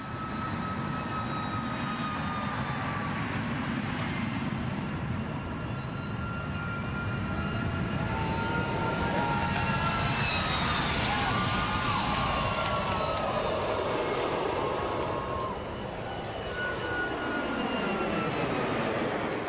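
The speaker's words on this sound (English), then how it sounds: "let's just take a listen as this airplane gets ready for its very first takeoff" A Boeing 737 MAX jet airliner roars through its takeoff, the engine noise building to a loud, rushing whine and then slowly fading as it moves away.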